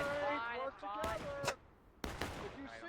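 Gunfire in the Civil War game War of Brothers: a few sharp, loud broadband shots cracking out near each other, heard over steady talking voices.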